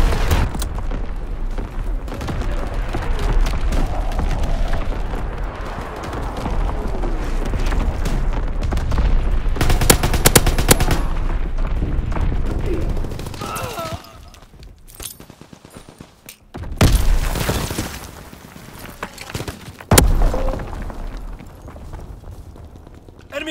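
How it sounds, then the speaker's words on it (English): Enemy artillery pounds the battlefield in Call of Duty WWII team deathmatch on Pointe du Hoc, heavy booms and gunfire bursts rolling continuously, with sharp close blasts cracking out around the middle and near the end. "Incoming enemy artillery."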